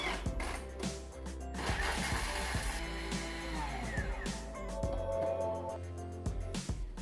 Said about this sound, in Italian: E tritare per 10 secondi.